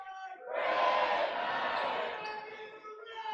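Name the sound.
basketball crowd cheering before tip-off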